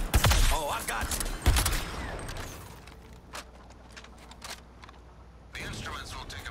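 Rapid gunfire bursts in Suicide Squad: Kill the Justice League, loud and dense at the start and again near the end, with a quieter stretch of game sound between and a voice talking over it.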